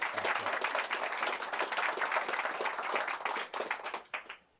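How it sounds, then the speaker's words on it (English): A mentalism show audience breaks into warm applause, a dense, fairly even clatter of many hands clapping that carries steadily for about four seconds and then quickly tapers off. "A little round of applause."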